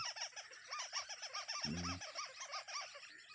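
A bird gives a rapid series of repeated chirping calls over a constant high hiss, with a brief low honk partway through, in Surigao del Norte, Philippines.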